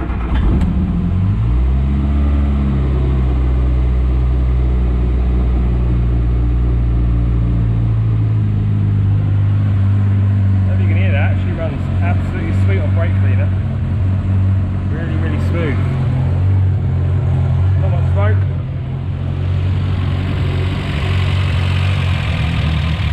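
A Morris Minor engine idles on choke with a steady low drone. It has a fueling problem, and the note shifts and settles partway through while people talk over it nearby.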